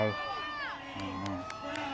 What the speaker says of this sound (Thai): เรียกเสียงเชียร์จากคนดูรอบข้างครับเพื่อเพิ่มกำลังใจ